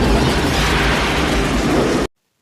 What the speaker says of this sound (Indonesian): Yang membuat ledakan yang besar dan membuat beberapa anak buah si botak mati